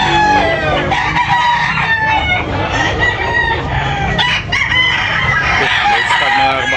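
A rooster crows loudly and clucks close by, with repeated calls over continuous busy farmyard background noise.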